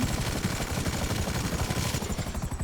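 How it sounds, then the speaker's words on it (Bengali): A helicopter's rotor thrums steadily throughout in GTA V, mixed with game-like rumble and clatter, loud and continuous with no talking. "আরে ভাই পড়ে গেল হেলিকপ্টার আমার"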